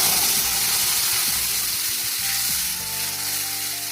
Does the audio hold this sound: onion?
yes